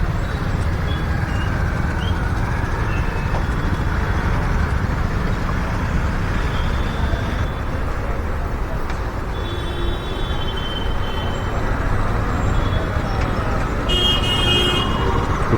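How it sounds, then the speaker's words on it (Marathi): Heavy evening traffic jam on a Mumbai road, a dense constant roar of engines with scattered car and scooter horns honking near and far. "ट्रॅफिक इतकं आहे की"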